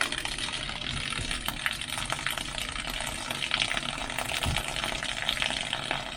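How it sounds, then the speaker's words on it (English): Well water gushing and splashing from a line with air in it, uneven sputtering bursts, a broad steady hiss close by. "Like you can hear air coming out, and it's not really a solid stream"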